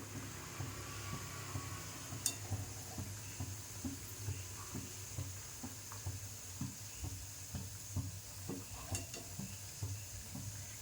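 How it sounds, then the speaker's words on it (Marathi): Sweet shankarpali dough pieces fry in a pan over low heat while being turned, a soft, quiet sizzle with regular gentle taps and scrapes running throughout. "आता मी परतून घेते."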